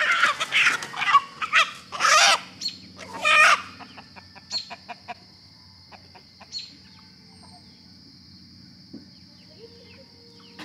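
Roosters cluck and squawk loudly as they are caught by hand, several agitated bursts in the first few seconds. These fade into quieter scattered clucks and a faint, sustained higher call.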